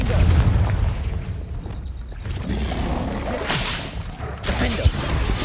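Confringo fire spell cast in the video game Hogwarts Legacy, a booming blast with whooshing bursts amid steady game noise and music, ending in a sharp crack.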